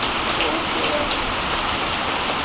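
Steady rain falls outdoors, a dense, even hiss of drops hitting surfaces, constant and fairly close with no other sounds standing out.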